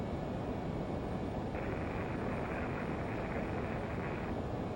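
A LearJet taking off in a flight simulator game, its jet engines producing a steady, loud broadband roar that thickens partway through and holds to the end, with no voices.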